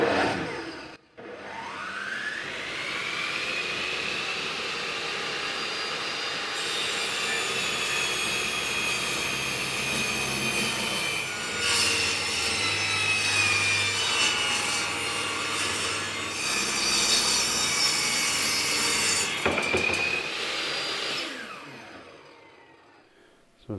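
Wooden siding boards being cut with a power saw in a garage workshop, a steady loud whining cut that runs almost unbroken for about twenty seconds before winding down.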